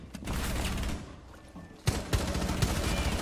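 Rapid gunfire in the shooter game Rainbow Six Siege, with dense sustained bursts first, a lull, then sharp individual shots over continuous game noise.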